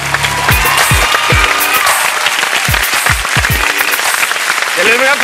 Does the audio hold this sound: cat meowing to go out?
no